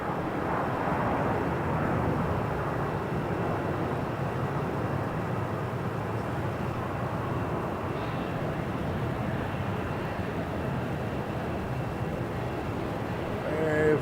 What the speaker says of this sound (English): Jetstar rotating off 3-4.